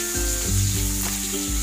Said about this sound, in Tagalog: pwede na natin ilagay ang ating bawang. Haluin lang natin ito at hintayin natin mag-golden brown.